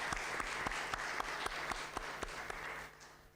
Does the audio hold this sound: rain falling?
no